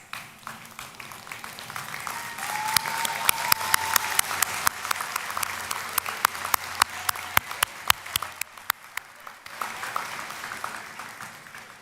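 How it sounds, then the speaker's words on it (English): Graduates at a spring convocation ceremony give their supporters a round of applause in a large room, the clapping swelling into a full ovation with sharp individual claps standing out, then thinning and fading toward the end. "face the back of the room and give those supporters a round of applause"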